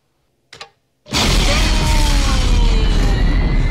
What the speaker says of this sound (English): That's explosion.